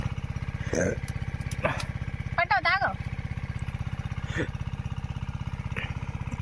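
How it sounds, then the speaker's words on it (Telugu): A small engine in a maize field chugs in a fast, steady rhythm throughout, with people talking briefly over it. "ఇంజన్ స్టార్ట్ చేసింది"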